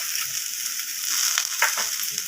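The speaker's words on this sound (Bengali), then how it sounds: "এরপর আমি এখানে দিয়ে দেব হাফ চামচ পরিমাণে রসুন বাটা আর হাফ চামচ পরিমাণে আদা বাটা" Garlic and ginger paste fries in hot oil with shrimp and bitter gourd, giving a steady soft sizzle up close with a few brief scraping stirs in the pan.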